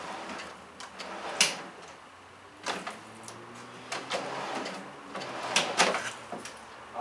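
A cooler slides on newly installed drawer slides inside a teardrop trailer: a series of knocks, thuds and rolling clatters spread over several seconds, close and moderately loud, with scattered quieter rumbles between the impacts.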